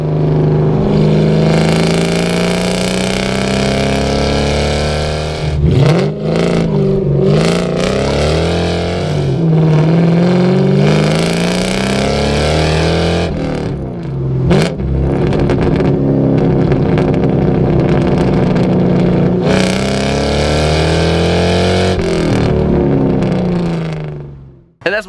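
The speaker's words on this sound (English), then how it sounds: "with the off-road H-pipe, it sounds more of like loud 2-valve." Loud V8-style engine exhaust with an off-road H-pipe giving a two-valve rumble, running steadily and revving hard with brief throttle lifts and blips, close and alone for about twenty-five seconds.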